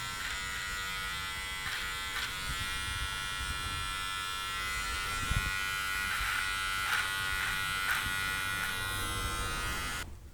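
A Braun MGK7220 electric trimmer shaving a beard hums steadily and close for about ten seconds, its buzzing tone shifting slightly as it moves over the face, with no talking.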